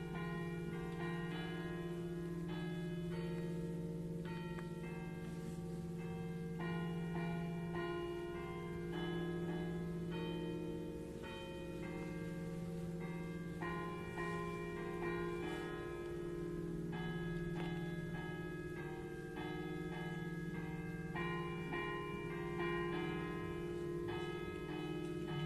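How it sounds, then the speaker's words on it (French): Church bells of Vézelise ringing the Ave Maria, a slow sequence of clear resonant strikes over a sustained humming tone, tolling at a measured pace throughout with no voices. "les cloches se mettent en branle"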